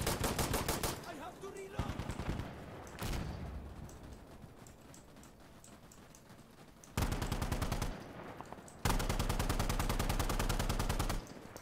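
Video game gunfire comes in several loud rapid automatic bursts separated by quieter gaps with softer shots and game noise, each burst dense and sustained.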